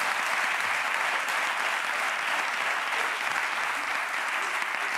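Steady, dense applause from a studio audience at a TV talk show fills the whole stretch, loud and continuous without pauses.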